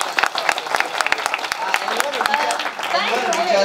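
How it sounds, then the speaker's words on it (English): Scattered clapping from a small audience applauding panelists at a startup event, individual sharp claps over a few seconds, thinning out as talking voices take over. "So can we have a round of applause for the panelists?"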